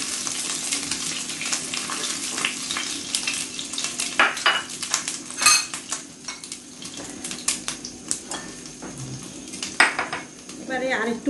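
Pots, pans and metal utensils clatter while fried chicken is lifted out of a pan in a high-heat Chinese-style cooking session, with scattered clinks and scrapes over a steady background of sizzling oil.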